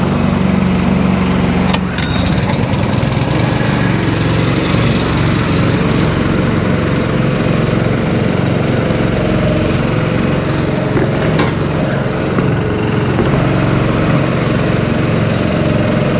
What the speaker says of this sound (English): Turn the pump on